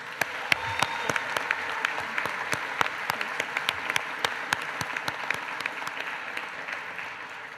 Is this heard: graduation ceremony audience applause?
yes